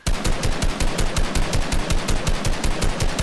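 Rapid automatic gunfire in the video game Fortnite, a loud steady burst of evenly spaced shots running the full length with no talking.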